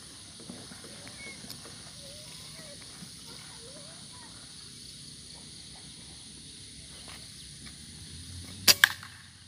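A PCP Predator air rifle with a dural tube and Hunter Raccoon barrel fires local JBS pellets: one sharp, loud double crack near the end, after a long stretch of quiet outdoor ambience with faint birdsong.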